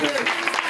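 Church congregation at a charismatic worship service applauding loudly in a dense burst of clapping, with voices mixed in.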